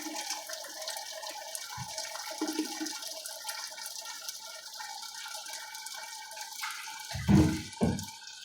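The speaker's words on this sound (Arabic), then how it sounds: "غادي نجيبو الماء سخون ونكبوه في الجنب" Hot water poured from a container into a pot holding chicken for Moroccan couscous with vegetables, a steady low wash that ends in two short, louder gushes of pouring near the end.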